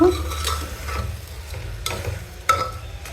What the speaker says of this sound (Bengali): এবার কিন্তু আমি চালটা দিয়েও ভালো করে নাড়িয়ে নেব